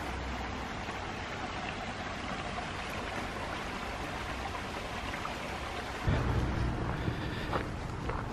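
A small babbling brook flows through woodland near Derwent Water in the Lake District, a constant close rush of water that swells louder near the end.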